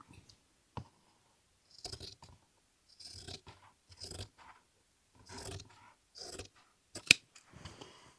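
Scissors cutting plaid flannel fabric along a line, a series of short crisp snips and rasping shears in irregular bursts with quiet gaps between, close and fairly soft.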